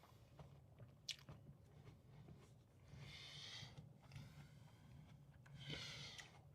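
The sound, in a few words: chewing food close to the microphone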